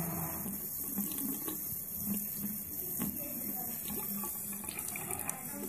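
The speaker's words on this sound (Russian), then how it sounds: "Сейчас теплую воду сделаем." Warm water runs from a household tap into a sink, a steady close splashing stream, with brief quiet voices in the background.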